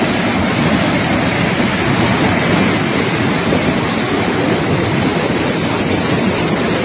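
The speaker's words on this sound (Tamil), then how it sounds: "அந்த பக்கம் தண்ணி இருந்து இந்த பக்கம் அப்படியே மேற்கு வாய்க்காலுக்கு தண்ணி ஊற்றுது" Water pours from the Mettur dam into the west bank canal as a loud, steady rush. The broadband roar is continuous and close, with some wind noise on the microphone and no speech.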